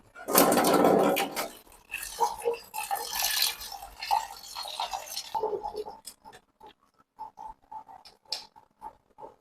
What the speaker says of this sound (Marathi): याच्यात खिचडीत आपण थोडं पाणी ओतू आता.